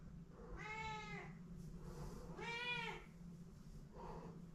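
An indoor cat meows loudly three times, two long drawn-out cries and a shorter third, near but fairly quiet over a low room hum.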